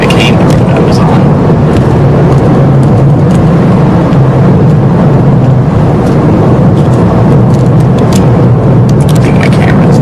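A car rolls over a loose gravel road on a ride from Surabaya to Malang, producing a loud, unbroken rumble and roar throughout, with faint crunchy ticks scattered on top.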